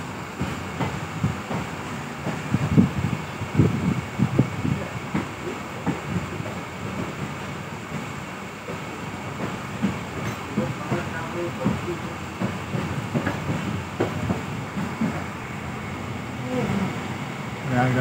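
A train rolls along the railway line toward Prayagraj Sangam, a continuous heavy rumble with rhythmic clatter throughout, fairly loud and steady.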